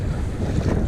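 Strong wind buffets the microphone while a kayak is paddled through big swells on open water, a loud, constant roar with wave wash underneath and no talking.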